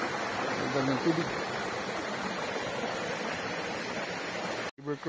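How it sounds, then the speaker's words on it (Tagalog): Lambingan Falls in Mt. Guiting-Guiting Nature Park on Sibuyan Island sends up a steady broadband rush of falling water, constant and moderately loud, with brief faint sounds over it and a short dropout near the end. "Para may naririnig na akong waterfalls."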